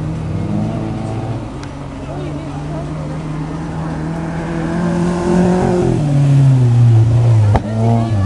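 A front-wheel-drive free-class autocross race car revs at a qualifying event in Ugāle, Krauķi. Its steady engine drone climbs in pitch near the end, and a commentator talks over it throughout.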